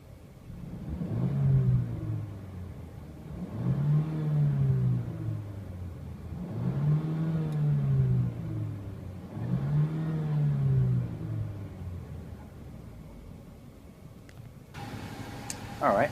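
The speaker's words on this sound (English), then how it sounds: "Let's go ahead and give it a little rev here." 2014 Mercedes-Benz CLA250 Edition 1 engine revved four times in a row, each rev rising and falling smoothly, heard from inside the car at moderate level, followed by quieter idle and a brief click at the end.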